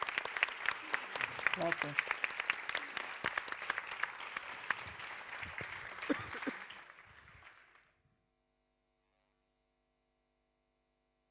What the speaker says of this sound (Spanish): Un aplauso para ellos y muchos ánimos